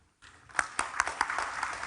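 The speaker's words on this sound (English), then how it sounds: "let's conclude this panel with a big applause to our speaker" An audience applauds speaker Peter Singer at an academic conference, with distinct claps starting softly and thickening into a light, fairly distant round of applause.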